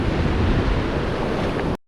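Ocean waves washing onto a beach near a creek mouth while surf fishing, a loud, continuous roar of breaking water and wind rush that cuts off abruptly at the end.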